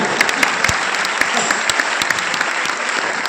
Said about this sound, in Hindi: 13 बच्चे, जोरदार तालियां मेरे बच्चे।